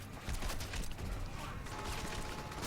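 Sustained rapid gunfire in the Crackdown video game, a dense, continuous burst of shots throughout, loud and close with no pauses.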